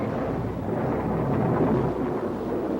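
Rain pours in a dense, continuous roar while thunder rumbles low underneath it, steady and loud throughout with no voices.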